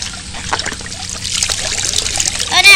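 Water trickles and splashes steadily inside a Disney Princess Ariel Sea Castle toy, close and fairly loud, with a brief voice near the end.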